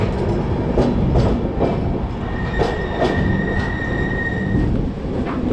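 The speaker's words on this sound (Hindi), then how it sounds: "उधर अवध एक्सप्रेस भी निकल गई" The Awadh Express rolls past close by on the line toward Jaipur, giving a loud rumble with rhythmic wheel clatter and a thin squeal from the wheels partway through.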